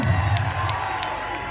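Crowd at a concert cheering and whooping loudly and continuously, a dense roar of voices with some scattered clapping, no distinct speech.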